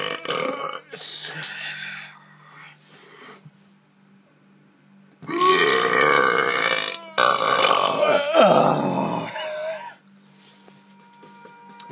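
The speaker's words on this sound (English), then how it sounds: "I'm just full of burps today," Several loud, drawn-out burps from a player in the game Skyrim, coming in bursts with pauses between, the longest ones running several seconds near the end, with a few brief bits of talk at the start.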